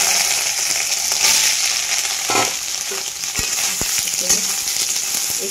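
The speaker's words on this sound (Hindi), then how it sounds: "तेल गर्म हो चुका है, अब इसमें मैं सोया बड़ी को सारे डाल देती हूँ।" Soya chunks frying in hot oil in a pan, a loud continuous sizzle close up, with a few stirring scrapes and clicks of a utensil partway through, and no talking.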